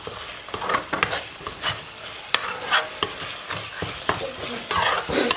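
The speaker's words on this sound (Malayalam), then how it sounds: "ഗ്രേവിയുടെ കൂടെ ഇത് മിക്സ് ചെയ്യുക നന്നായിട്ട് മിക്സ് ചെയ്യുക" A spoon stirs dried prawn pickle into gravy in a hot pan, giving repeated close scraping strokes in an uneven rhythm over a soft, continuous sizzle.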